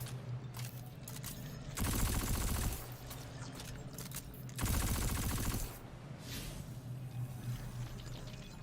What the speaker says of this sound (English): I highly suggest you using this gun with it. That is very quick firing.